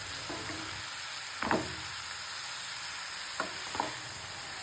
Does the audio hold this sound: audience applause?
no